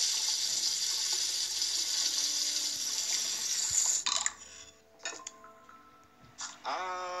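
Water from a kitchen tap runs in a steady hiss for about four seconds, then stops and starts in short bursts, with light clinks of a glass or dishes nearby.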